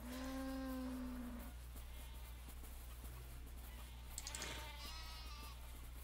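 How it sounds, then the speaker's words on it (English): Sheep bleat several times in the video game Shroud of the Avatar, one clear drawn-out bleat at the start and another about two-thirds through, over a steady low ambient hum. "Can hear the sheep."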